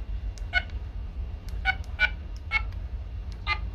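Keypad dialing on an Inmarsat FleetBroadband FB500 JRC JUE-501 ship satellite terminal, placing an international call: about six short DTMF beeps at uneven intervals over a faint low hum, no voices.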